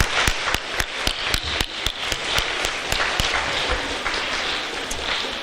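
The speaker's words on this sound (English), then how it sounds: "I would also like everyone to give a round of applause to their families who are here today" Applause from an audience at a school character assembly, honoring students' families: a steady wash of many hands clapping, with sharp individual claps standing out, continuing throughout without speech.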